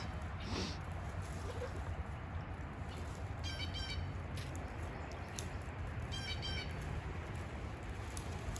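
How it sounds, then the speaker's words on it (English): A bird in a tree gives two short bursts of rapid, high chattering calls, faint and distant over steady outdoor background noise. "I hear that bird, but I can't see it in that tree."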